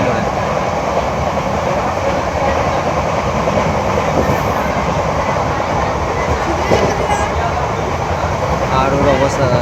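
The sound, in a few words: riding inside a moving train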